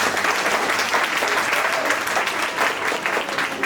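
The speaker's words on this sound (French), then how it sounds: "Est-ce qu'on peut les applaudir s'il vous plaît?" A crowd at a student talent contest in Reims applauds in a dense, loud, steady wash of clapping that carries on without a break and with no voices.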